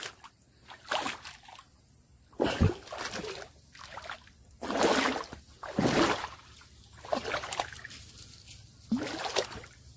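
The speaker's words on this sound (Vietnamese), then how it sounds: "Giờ lội qua con suối này." Water splashes and sloshes irregularly as someone wades across a forest stream near Ea Trul in Đắk Lắk, with a string of close, uneven surges of splashing and no talk.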